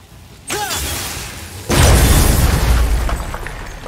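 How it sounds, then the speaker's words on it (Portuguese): A crystal explodes in God of War, a sharp burst followed by a heavier, louder roaring blast with debris rumble that lingers and slowly tails off, no talk. "Então tem que explodir, garoto."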